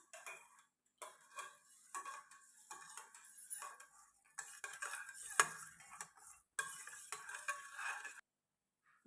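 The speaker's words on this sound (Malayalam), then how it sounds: "എള്ളും കൂടി ഇട്ട് കഴിഞ്ഞിട്ട് നമുക്ക് ഇളക്കി കൊടുക്കേ." A spoon stirs bread roast batter mixed with sesame seeds, giving close, bright clinks and scrapes against the bowl in quick repeated bursts with short pauses and no talking.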